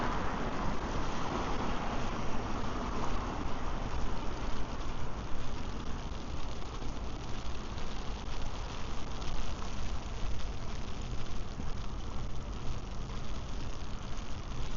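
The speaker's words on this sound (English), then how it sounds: "On my umbrella, it kind of feels like raindrops now, but it's snow." Wet snow falls onto an umbrella during a New York City snowstorm, making a steady, dense patter like rain that continues unbroken with no voices.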